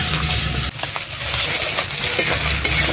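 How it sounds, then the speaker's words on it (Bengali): Chopped onions fry in hot oil with whole cumin and salt, a dense continuous sizzle broken by scraping stirs of the spoon, close and fairly loud with no talking. "পেঁয়াজগুলো বেশ লাল লাল করে ভাজা হয়ে গেছে"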